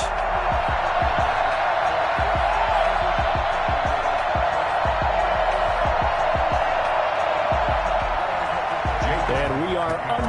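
A sold-out Buffalo Bills stadium crowd in Madden NFL 21 on PS5 roars in a loud, continuous wash with repeated thumping beats, under game commentary.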